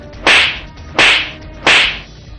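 Hard slaps to the face land in a crowded wedding scene from a Hindi TV drama: three sharp, loud smacks about 0.7 seconds apart, each followed by a brief ring-off, with no speech.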